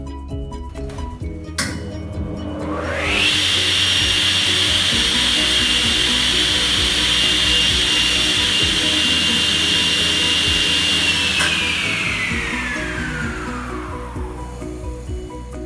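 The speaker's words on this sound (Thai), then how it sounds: "เป็น induction มอเตอร์นะครับเปิดแล้วจะมีระบบเปิดที่นิ่มนวล" A 10-inch table saw with a 3 hp direct-drive induction motor and soft start spins up smoothly to a loud, steady high whine, holds it for several seconds, then coasts down as the tone falls away.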